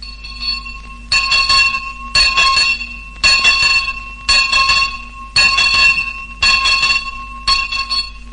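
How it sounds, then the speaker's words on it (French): A school bell rings in a series of about seven loud, steady bursts, each lasting close to a second with brief gaps between them. Nobody speaks over it. "Vous la reconnaissez à présent, la cloche, celle qui réglait votre vie?"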